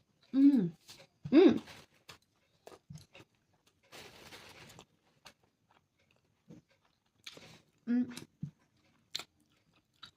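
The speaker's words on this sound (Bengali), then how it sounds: "তো এটাকে আমি এখন খাবো, 2 কামড় বলেছি, 2 বাইটে আমি এটাকে শেষ করবো।" Someone eating food in a food challenge with a few loud close bites followed by scattered softer crunchy chewing sounds and pauses, with no talk heard.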